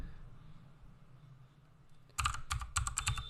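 Code being typed on a computer keyboard, a quiet lull and then a fast, close run of crisp key clatter that keeps going to the end.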